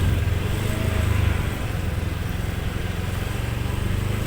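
An automatic scooter engine hums steadily and loudly close by while riding at low speed, easing through a left turn and then opening the throttle again, with a constant low rumble and wind noise throughout.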